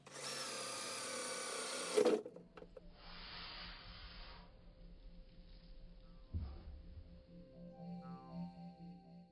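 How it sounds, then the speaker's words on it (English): A power drill whirs loudly for about two seconds drilling holes in scrap wood, then stops, followed by quiet clatter, a short thud, and faint birdsong. "The next step was to mark out and drill a few holes."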